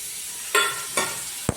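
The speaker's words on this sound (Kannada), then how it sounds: "ಸಾಸಿವೆ, ಕಡಲೆಬೇಳೆ, ಉದ್ದಿನಬೇಳೆ, ಜೀರಿಗೆ, ಮೆಂತ್ಯ ಹಾಕ್ತಾಯಿದ್ದೀನಿ" Mustard seeds, chana dal, urad dal, cumin and fenugreek go into hot oil for tempering, with a soft background sizzle and three short scraping strokes, the last a sharp knock against the pan.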